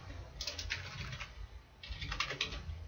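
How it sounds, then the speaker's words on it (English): Someone types a domain name on a computer keyboard in two short bursts of quick, light key clicks separated by a pause, close and fairly quiet over a low background hum, with no voices. "You just type in your domain name, chaos."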